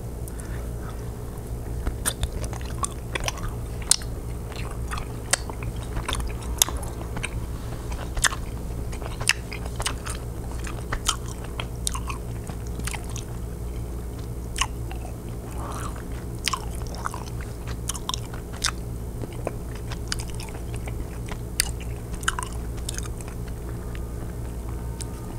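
Close, steady chewing of Swedish licorice candy from a Sockerbit candy bowl, with soft crunches and moist squishes repeating throughout under a faint constant background hum.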